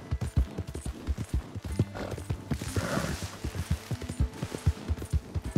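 Horse hoofbeats clop in a steady, quick gallop rhythm in Red Dead Redemption 2, loud and close, with a brief burst of busier game noise midway and no talking.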